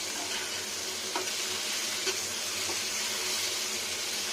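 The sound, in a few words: frying Malabar spinach (pui shak) with fish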